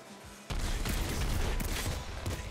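A flaming shot weapon firing in the roguelike game Nuclear Throne: a quiet lead-in gives way to a loud, sustained crackling barrage of rapid shots.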